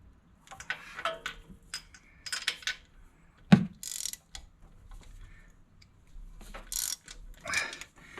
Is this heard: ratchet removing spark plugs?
yes